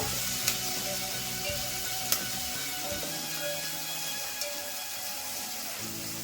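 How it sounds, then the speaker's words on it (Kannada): Chopped onions and curry leaves sizzling in a mustard-cumin tempering for village-style tur dal sambar, a steady close frying hiss with a few sharp pops and stirring scrapes. "ಸ್ವಲ್ಪ ಕರ್ಬೇವಿನ ಸೊಪ್ಪು, ಸ್ವಲ್ಪ ಈರುಳ್ಳಿ ಫ್ರೈ ಆಗಬೇಕು."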